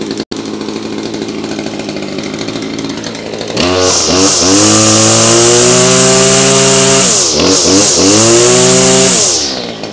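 A Kawasaki KGT27C string trimmer's small two-stroke engine catches after a faint start, then runs loud and close for several seconds, revving up, dipping briefly and revving again before easing off near the end.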